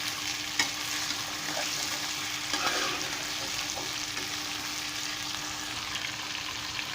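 Potatoes fry with cumin in a pan for zeera aloo bhujia, a soft, even sizzle running throughout with a few light clicks and scrapes of stirring.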